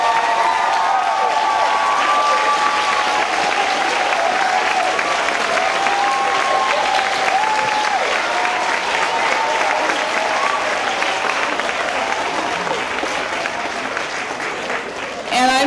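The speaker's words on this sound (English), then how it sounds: "Give them a big round of applause." An audience at a school culmination ceremony gives parents sustained, dense applause, many hands clapping steadily for around fifteen seconds with scattered crowd murmur and faint cheering throughout.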